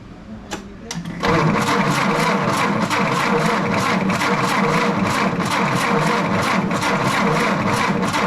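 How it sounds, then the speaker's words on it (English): A 1942 Ford GPW jeep, fresh from a fuel pump replacement, clicks and cranks briefly before its engine catches. It then runs at a fast, rhythmic, pulsing idle close by, loud and steady through the rest. "let's see if it actually starts, because then it'll let the engine rev it up"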